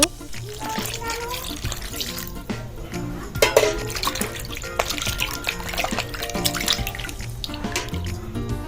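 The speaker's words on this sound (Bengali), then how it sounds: "এবার আমি মাছগুলো ভালো করে ধুয়ে নেব।" Pangas fish are rinsed under a running kitchen tap, a continuous splashing wash of water with clatters and knocks of fish and bowl, close and fairly loud.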